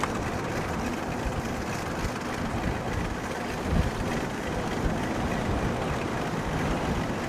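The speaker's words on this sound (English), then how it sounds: "Holy shit, it's windy." Strong wind buffeting a microphone while riding an e-bike in Portland, Oregon, a loud continuous roar of rumbling gusts that stays dense and unbroken throughout, with no speech.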